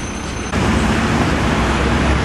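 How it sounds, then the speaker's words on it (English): A giant new city bus passes in busy street traffic in Santiago, Chile, as a loud, close roar of engine and road noise that swells and holds steady. "Here's one of the giant new buses that they have now."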